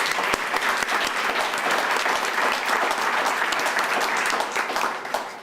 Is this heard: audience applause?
yes